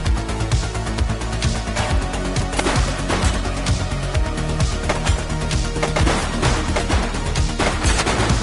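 Gunfire in The Precinct on PS5, with dense repeated shots and bursts in an irregular rhythm, loud and close across the whole stretch, with no talk over it.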